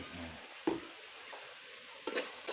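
Shrimp paste and curry paste stir-fried in a hot pan, soft sizzling with a few sharp scrape-and-clack stir strokes of a utensil, fairly quiet and close, without talking.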